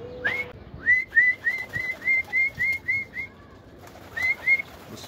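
Pigeons give a run of short, bright whistling calls in an even rhythm at middle distance, pausing and then calling again, with faint outdoor ambience between.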